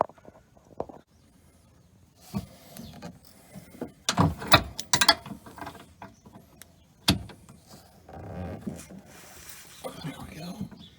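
Mechanism under a vehicle being loosened to lower a heavy spare tire, with scattered metallic ratcheting clicks, scrapes and clunks at close range, separated by quiet gaps and occasional low rubbing.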